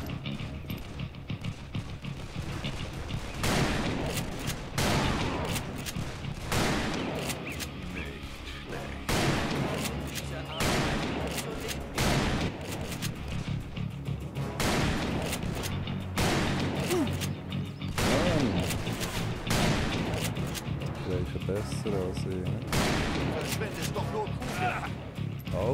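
Gunfire from the western shooter game Call of Juarez: Bound in Blood on Xbox 360: repeated sharp shots and bursts in irregular rhythm, mixed with game effects and someone talking in Swiss German throughout.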